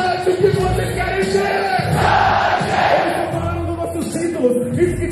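Packed crowd at a Brazilian rap battle roaring and chanting in unison, a dense, loud, continuous wall of voices that swells in the middle and stays raucous throughout.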